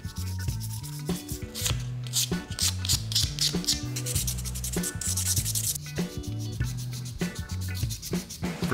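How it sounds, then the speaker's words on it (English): Sandpaper wet-sanding a resin model figure, with quick repeated rasping strokes in an uneven back-and-forth rhythm, close and clear, over faint background music. "Next, I use sandpaper to smooth out any rough or imperfect areas on the model"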